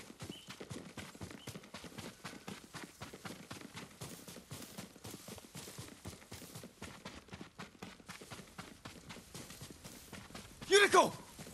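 Rapid, rhythmic clip-clop of horse hooves trotting steadily close by in the video game Ghost of Tsushima, ending with a short burst of a horse's whinny.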